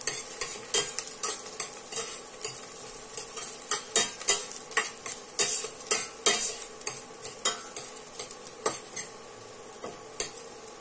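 Garlic sautés in a hot pan for a Filipino patola and sotanghon soup, sizzling steadily while a spatula scrapes and stirs in repeated close strokes, with no talk.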